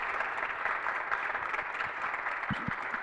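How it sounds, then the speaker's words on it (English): Steady, continuous applause from an audience after a free piano concert of South American music, a fairly even wash of many hands clapping with no voices standing out. "Let's give her one more round of applause."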